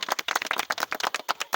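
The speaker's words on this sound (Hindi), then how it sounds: "ताली" Sharp, uneven handclaps from a small group of villagers celebrating the arrival of the first bus service in their ward, close and fairly loud with no talk over them.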